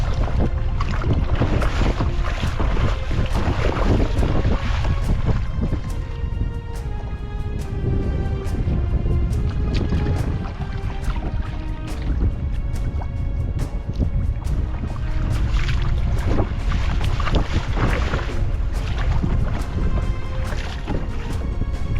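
A kayak paddled in wind toward a lighthouse, with rhythmic paddle strokes and water splashes repeating every second or so under strong, steady wind buffeting the microphone.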